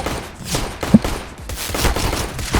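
Rapid bursts of video game gunfire crackle through a dense, busy mix, with one sharper shot standing out near the middle against continuous battle noise.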